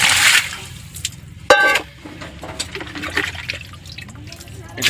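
Pieces of desi chicken meat are rinsed under water, giving uneven splashes and trickles with a sharp burst partway through, while a voice is faintly present.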